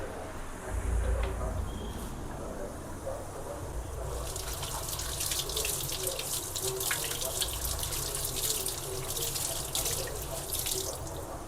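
Tap water runs into a kitchen sink while coriander leaves are washed for rasam, starting as a low trickle and then gushing into a steady, close splashing stream with faint dripping.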